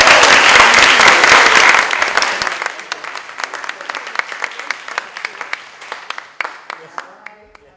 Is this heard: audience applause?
yes